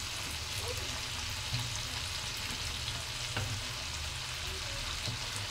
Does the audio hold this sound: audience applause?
no